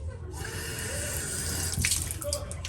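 Water runs steadily from a bathroom sink tap in a hotel room on a river walk. The flow is close and continuous, with no voices.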